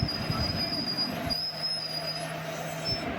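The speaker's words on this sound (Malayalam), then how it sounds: "ആ ട്രെയിൻ തന്നെ നമ്മുടെ തിരുച്ചിറപ്പള്ളിയിൽ നിന്ന് തിരുവനന്തപുരത്തോട്ട് വന്ന ഇൻ്റർസിറ്റി എക്സ്പ്രസ് സൂപ്പർ ഫാസ്റ്റ്" Thiruvananthapuram Intercity Express superfast train at Neyyattinkara station rumbling past close by, with a steady rolling roar, a high wheel squeal whining above it and a lower steady tone in the second half.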